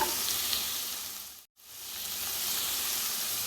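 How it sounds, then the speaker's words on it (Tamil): Chopped plantain stem, tomato and zucchini sizzle steadily in a hot pan with curry leaves, a close, continuous frying hiss broken by one short silent gap partway through. "எல்லாம் சேர்த்து நல்லா வதக்கிங்க"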